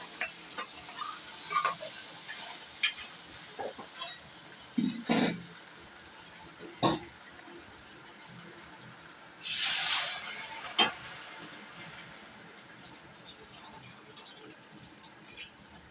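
Crab curry sizzling and frying in a pan as water is added, with a faint steady fry broken by scraping stirs and louder hissing bursts, the longest and strongest as the water hits the hot pan.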